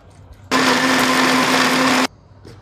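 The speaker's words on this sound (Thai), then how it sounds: "จะโขลกก็ได้นะคะปั่นด้วยกะทิกล่องค่ะ" A blender whirs for about a second and a half, grinding curry paste with boxed coconut milk, a loud steady motor hum that starts and stops abruptly, with quiet before and after.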